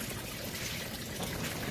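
Water drains through a cup with drilled holes into a siphon in a greenhouse, a steady close trickling pour with a constant hiss and no break, alone with no talk.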